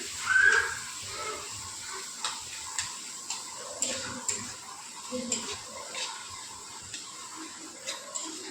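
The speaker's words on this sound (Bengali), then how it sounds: "ছানাটাকে আমি ভালো করে মিশিয়ে নিচ্ছি।" Chhana (cottage cheese) stirred into a cooked mixture in a pan, with soft, repeated spoon taps and scrapes at a steady, unhurried rhythm, fairly faint and close.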